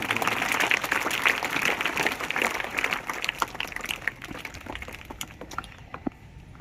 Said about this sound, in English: So clap for Arnav for doing so.